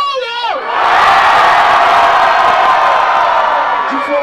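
A live crowd at a Brazilian rap battle semifinal erupts in loud cheering, whoops and shouting. An MC's voice is heard briefly before the roar swells and holds steady.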